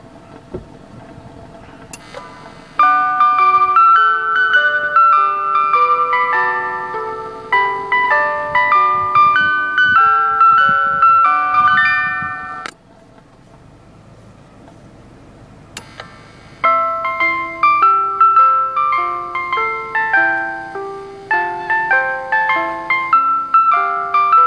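A music box plays the Tetsudo Shoka railway song, bright plucked metal tines picking out a clear melody loud and close, pausing briefly midway before starting the tune again.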